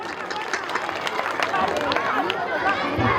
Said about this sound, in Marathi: या बाबासाठी जोरदार टाळ्या जाऊ द्या